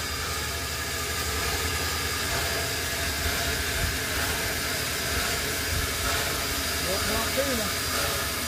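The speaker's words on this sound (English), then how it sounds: "Built in Altoona, so that's probably a real Pennsylvania locomotive." An Altoona-built Pennsylvania steam locomotive at an Allis Chalmers collectors' show in Mechanicsburg, PA, hisses with a continuous broad steam hiss, while faint background voices carry on beneath it.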